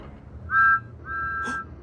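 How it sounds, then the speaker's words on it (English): The whistle signal of Diesel in a Thomas-style toy train remake: two steady, high whistle tones, a short one then a longer one, fairly close over a low background hum. "It's Diesel's signal. I didn't know Diesel had a whistle."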